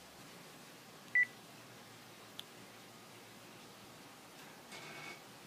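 A phone dials out before a call to a golf course, with one short tone at the start and a faint blip later, both heard against a quiet hiss.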